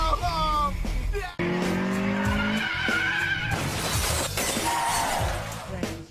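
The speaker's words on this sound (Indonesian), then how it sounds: "Akhirnya Mul berhasil dikalahkan dan dia mengalami kecelakaan ringan" A street-racing car in an Initial D film skids with a long tire squeal and crashes with a loud shatter, engine noise and brief shouting around it, all close and intense.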